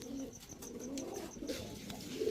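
Pigeons, including male birds at a market selling highflyer and racer breeds, coo softly and repeatedly in the background, a faint rhythmic calling with no talk over it.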